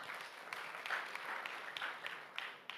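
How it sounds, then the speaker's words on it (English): A crowd claps for Leah at an education event in Uganda, a moderately quiet, steady patter of many hands with a few sharper individual claps standing out. "Ladies and gentlemen, let's give a hand clap to Leah."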